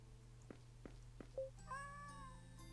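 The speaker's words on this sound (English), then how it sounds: "A cat, is it a stray?" A wounded stray cat in the horror game Misao meows in a few short, soft calls, followed by a longer drawn-out meow over quiet synthetic game tones.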